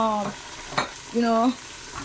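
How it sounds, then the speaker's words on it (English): Diced tomatoes are added to cooked onions in a pan for Ghanaian okro stew, producing a moderate hiss of frying with a sharp clatter midway and two short rising tonal squeals. "So I'm going to go ahead and add the diced tomatoes."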